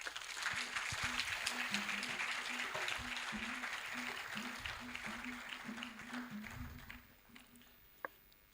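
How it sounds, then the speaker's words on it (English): Audience clapping at a Ghana Culture Week symposium, a moderate, fairly distant round of applause with a steady low hum underneath, thinning out after about seven seconds. "Let's cultivate the culture of clapping."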